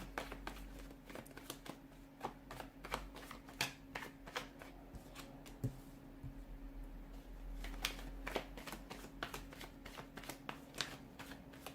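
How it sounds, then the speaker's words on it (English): Tarot cards are shuffled repeatedly at close range, a steady run of soft riffles and snaps over a quiet, humming room. "let's give the cards a shuffle and let's begin"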